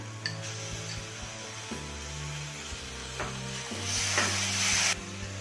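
Ginger-garlic paste frying with onions in a pan for raw banana kofta curry, a soft sizzle with occasional stirring knocks under background music, the hiss briefly rising near the end.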